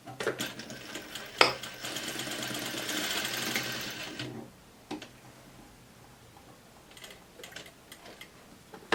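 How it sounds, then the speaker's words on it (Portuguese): A sewing machine runs a short burst of stitches, putting a tacking stitch into fabric to hold gathered elastic in a beginner's double-sleeved gypsy blouse, then stops; quiet handling of cloth follows, with no talking. "aqui na máquina mesmo você dá um pontinho"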